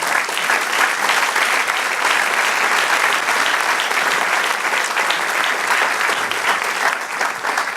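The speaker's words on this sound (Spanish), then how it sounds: "Dale un aplauso al Señor." Church congregation applauding during a Spanish-language worship service, a dense, steady wash of many hands clapping at close range that holds for the whole stretch without pause.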